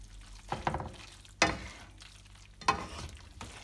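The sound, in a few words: squishing of egg sauce being mixed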